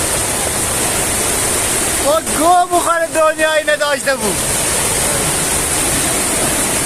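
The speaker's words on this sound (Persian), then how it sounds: "دوستان این آبشار چهارمیه نگاه کنید." A waterfall, the fourth along a hillside trail, pours with a steady, loud broadband rush throughout while someone speaks briefly in the middle over the roar.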